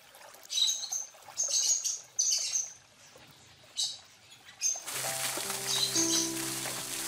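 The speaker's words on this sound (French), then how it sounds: "cela attire les oiseaux, et leur présence rend le jardin vivant et plein de musique." Birds sing in bursts of bright, repeated chirping phrases in the La Mortella garden on Ischia, fairly faint and spaced apart, followed by a trickle of flowing water and a sustained tonal sound.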